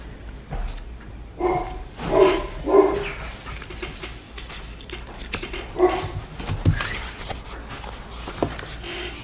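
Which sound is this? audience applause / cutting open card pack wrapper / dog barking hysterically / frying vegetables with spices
dog barking hysterically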